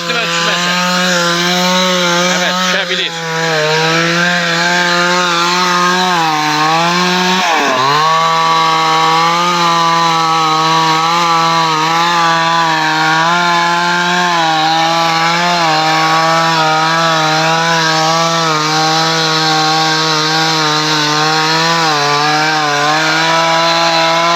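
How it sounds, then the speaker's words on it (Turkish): A chainsaw with a blunt chain runs loud and close for a long stretch cutting a dead, dried-out tree, its engine whine steady with brief dips as it bites into wood. "kurumuş ağaçların kesimi yapılıyor"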